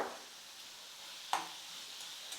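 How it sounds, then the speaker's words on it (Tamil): Onion, carrot and tomato sautéing with salt in a pan, heard as a quiet, steady sizzle and scrape with one sharp stir or clink near the middle and a softer one toward the end. "ஒரு ரெண்டு நிமிஷத்துக்கு வந்து வதக்கிக்கலாம்"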